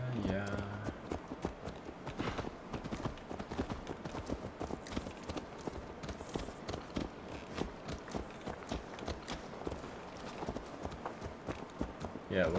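Horse hooves clip-clop steadily on the ground in Assassin's Creed Valhalla, close and rhythmic, with people talking over the walking throughout.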